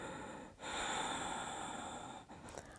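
Someone doing a yoga exercise breathes audibly: one long, steady airy exhale, then a short pause and a brief rougher breath at the end.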